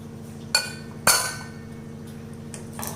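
A pressure cooker is closed and its weight set on top while curd rice is cooked, giving two sharp metallic clinks near the start and lighter clanks afterward, close and clear over a steady low kitchen hum without speech.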